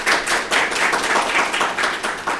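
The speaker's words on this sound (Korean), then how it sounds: "네, 박수." Audience clapping at the start of a university mathematics department colloquium, loud and close, a steady dense patter of many hands that carries on without speech.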